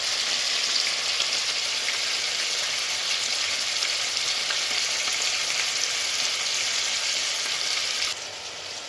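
Onion frying in olive oil alongside liver, Gaza-style, gives a steady, dense sizzle that runs close and loud almost throughout, dropping slightly in level near the end, with no talking.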